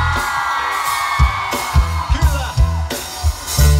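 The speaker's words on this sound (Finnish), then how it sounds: "Kun mä sanon hep, niin jengi huutaa hep." A crowd at a freestyle rap show yells in short bursts on cue, loud repeated whoops and shouts over booming music and drum hits.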